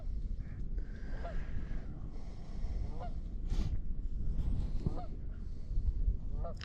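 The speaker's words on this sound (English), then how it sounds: "Those Canadian geese love it here, I guess." Canada geese honk repeatedly at a lake, several short nasal calls rising above steady outdoor wind and rumble, moderately near, with a few overlapping voices from the flock.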